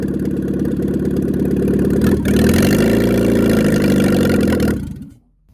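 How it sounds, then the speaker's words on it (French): An engine cranks over and catches, then runs with a loud, steady low rumble close by before shutting off sharply into silence at the end. "Il a démarré. Ce moteur tourne."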